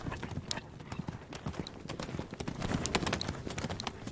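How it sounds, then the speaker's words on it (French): Horses gallop at full speed at night in a quarry, a dense, rapid clatter of hoofbeats with an occasional faint whinny, moderately close and without voices. "Les chevaux étaient au triple galop. Ils couraient, ils étaient fous."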